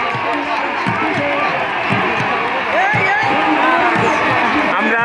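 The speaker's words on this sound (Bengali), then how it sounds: "দুই পাশে কিন্তু উৎসুক জনতার ভিড়" A dense crowd of eager spectators lines both banks at a boat race, a loud, continuous roar of voices and cheers with a steady broadband wash and faint rhythmic thumps underneath.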